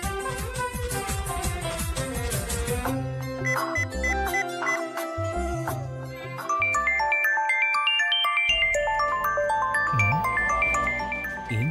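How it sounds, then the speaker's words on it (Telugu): A mobile phone ringtone plays for an incoming call, loud and melodic, with a chiming tune and a brief pause before the melody continues. "ఏంటి సీత ఫోన్ చేస్తుంది?"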